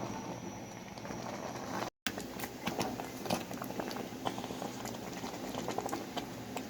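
Olive chutney bubbles and sizzles as it cooks down in a pan, a steady close patter of popping with a brief cut to silence near the start.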